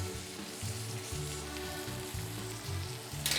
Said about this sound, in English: We'll toast the rest of these tortillas.